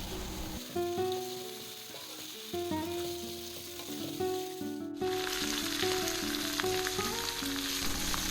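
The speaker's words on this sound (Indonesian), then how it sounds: "Selanjutnya aduk hingga tercampur merata" Shredded pindang fish and jengkol being stirred in a frying pan, with steady close sizzling and frying that grows louder and brighter partway through, plus light scraping of stirring; no talking.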